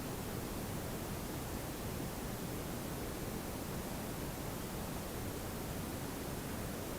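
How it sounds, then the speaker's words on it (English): A Google Home smart speaker plays steady white noise, a continuous broadband hiss with no variation, filling the room alone without any voices. "the normal white noise"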